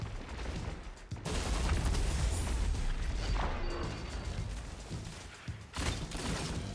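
Rapid gunfire from an exotic 120 hand cannon in a video game, a dense, loud barrage of shots with booming impacts that runs almost continuously, breaking off briefly twice.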